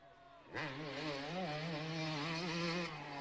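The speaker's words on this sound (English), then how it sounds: "You can hear the sound of that engine reverberate through the trees." Kawasaki motocross motorcycle engine racing past, loud and close with a steady high-pitched revving whine that rises and wavers over about three seconds, echoing among trees.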